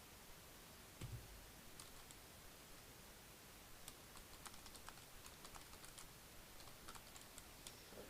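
Computer keyboard typing, faint and close, with scattered light key clicks that come in bursts over a soft hiss.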